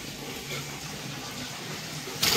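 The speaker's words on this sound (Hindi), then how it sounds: "अब प्रेशर आया नल का" Tap water runs steadily into a container in a home kitchen, a continuous broadband splash that swells louder near the end as the pressure rises.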